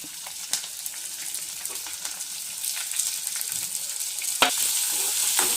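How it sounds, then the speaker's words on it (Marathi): Red and green chillies with a piece of cinnamon fry in a pan for palak chana masala, a continuous crackling sizzle with occasional sharp stirring clicks, close and fairly loud. "ही एक लाल मिरची, ही हिरवी मिरची एवढं आपण पहिल्याने टाकून घेते"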